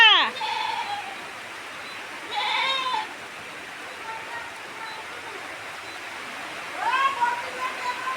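A goat out in the rain bleats three times, with a sharp call at the start, another after a pause and a wavering one near the end, each over a steady hiss of falling rain.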